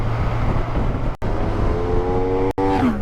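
A BMW K1600GT six-cylinder motorcycle in sixth gear accelerates hard, a loud close engine drone rising smoothly in pitch with brief cut-outs, and the climbing whine becomes clearer toward the end, with no talk.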